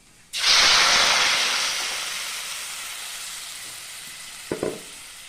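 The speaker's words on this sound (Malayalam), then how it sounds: "കടുക് വറുക്കാൻ വെച്ചിട്ടുണ്ട് ഒഴിച്ചു കൊടുക്കാം" Tempering of mustard seeds in hot oil is poured into red chutney, producing a sudden loud hiss and sizzle that slowly fades over several seconds, followed by a couple of brief clinks near the end.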